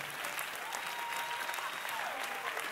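A church congregation at a prophetic service breaks into loud, steady applause, a dense wash of clapping filling the space with no pauses.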